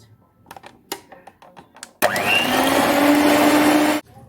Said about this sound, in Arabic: وهنضربهم ننعمهم جامد.